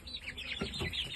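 Young shamo chicken chicks fresh off a heat lamp peep and cheep in a rapid overlapping chorus, close and moderately soft, with no talk.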